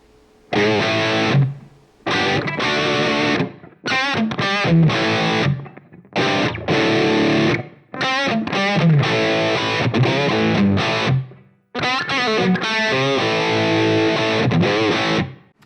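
Distorted electric guitar through a Line 6 POD HD500X plexi amp model playing chords and riffs in several bursts separated by short pauses, with a roomy reverb tail, loud and close.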